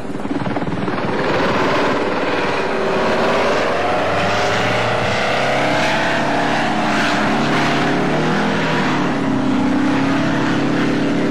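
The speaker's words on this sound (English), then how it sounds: "ever since its initial test flights, like this one in 1991, the Osprey has been in trouble" V-22 Osprey tiltrotor aircraft on a 1991 test flight, a loud, steady rotor and turbine roar with a low rumble that stays close and continuous throughout, slowly shifting in pitch.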